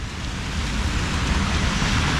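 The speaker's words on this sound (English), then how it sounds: "We are in rainy Guatemala. Look at it, beautiful rain." Steady rain falls in Guatemala City at El Trébol, a loud, even hiss that fills the whole moment without a break, with no voices.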